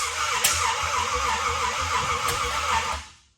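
A Ford 390 engine with a new ignition system fires up and runs with a loud, rough, broadband roar and low rumble for about three seconds, then cuts off quickly.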